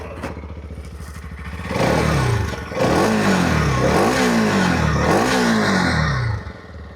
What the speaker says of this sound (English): it's a nice, deep, clean sound, and it sort of goes well with the character of this bike